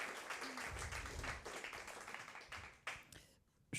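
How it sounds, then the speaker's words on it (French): A small audience claps for a few seconds at a talk on queer ecology, fairly close, fading with scattered final claps. "On peut t'applaudir"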